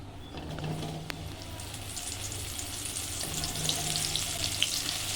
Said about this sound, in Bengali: দিয়ে দিচ্ছি আলু ভাজার তেলে পটল